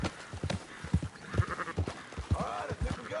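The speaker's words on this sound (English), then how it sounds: "Marston, why don't you leave the sheep to me?" Sheep bleat repeatedly in short, uneven calls while a flock is herded in Red Dead Redemption 2, the animals close and fairly loud, with faint hoof clatter between cries.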